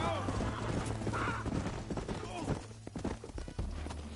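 Horse hooves clip-clop in Red Dead Redemption, a quick run of hoofbeats at moderate loudness, partly buried under overlapping voices.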